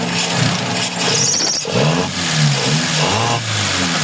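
A flooded carbureted Mitsubishi Lancer 4G92 engine revs loudly in uneven bursts, climbing and falling several times close by with no talk.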